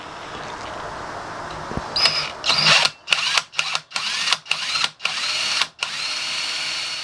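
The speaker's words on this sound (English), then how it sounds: "I've got a 3/4 Forstner bit in my hand drill." Hand drill fitted with a 3/4-inch Forstner bit boring a hole into the side of a Les Paul-style guitar body, whirring motor with repeated bursts of drilling and short pauses, loud and close.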